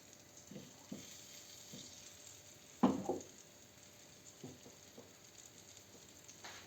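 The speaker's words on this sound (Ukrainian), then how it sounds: "І беремо її просто отак обмакуємо у муку і все і смажимо." Flour-coated marinated fish fries in a pan with a steady soft sizzle and patter, and a louder crackling burst as another piece goes into the hot oil.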